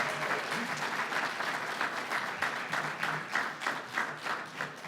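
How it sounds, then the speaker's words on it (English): An audience applauds the day's featured speakers at an event, a thick, steady roar of many hands clapping with slight surges, sustained for the whole stretch without any voices over it. "let's have another round of applause for all of today's featured speakers"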